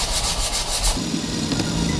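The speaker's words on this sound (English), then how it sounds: "It's just running some 40 grit over the whole handle" Coarse 40 grit sandpaper rasps back and forth over a wooden axe handle, a continuous close scratching that shifts to a lower, heavier rub partway through.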